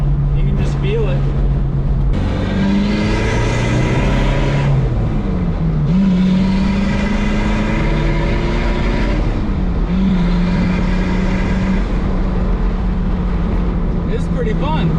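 TDI pickup truck engine accelerating through several gear changes, a loud close-up drone rising in pitch, dropping at each shift, then climbing again, with a voice speaking over it.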